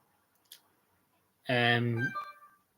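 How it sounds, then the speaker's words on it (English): A phone notification chime sounds once, a brief bright electronic tone that stands out clearly against near silence, preceded by a faint tap. "That's just a notification there now."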